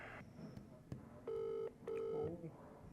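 A phone call connecting: two long electronic ringback tones with a brief gap, preceded by faint clicks and low background murmur.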